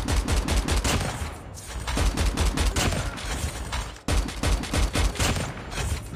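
An automated sentry gun fires continuous bursts in a Call of Duty Mobile free-for-all match, loud and close. The rapid shots run almost without a break, with one brief gap, and no one talks over them.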